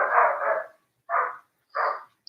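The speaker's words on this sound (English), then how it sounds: "Dogs are fighting." Dogs fighting, three gruff, rough barks or snarls close by, the first longer and doubled, then two shorter ones separated by brief silences, no talk over them.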